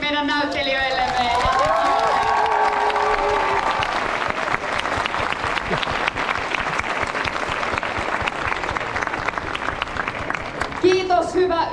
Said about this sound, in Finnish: Otetaanko vielä kerran aplodit meidän näyttelijöillemme?